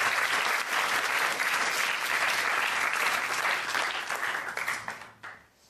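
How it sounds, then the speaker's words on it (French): Audience applause at a film premiere screening, dense sustained clapping from a crowd that fades out near the end. "Donc on peut applaudir pour tout ça."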